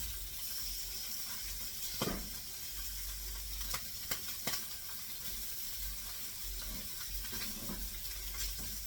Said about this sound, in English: So I'm frying my Spam.